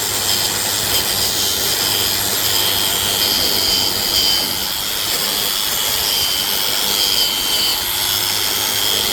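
A power tool polishes aluminum oxide and rust off the tarnished rims of a 2014 Cadillac ATS, giving a steady, loud, close-up whirring hiss with a bright high-pitched whine that runs unbroken throughout.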